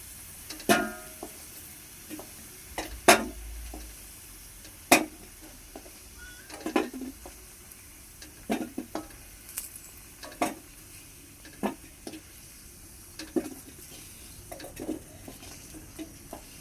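Potato pieces fried in oil until red are lifted out of a pan, giving a series of sharp scraping and clinking knocks of a utensil against the pan over a faint background, with no talking.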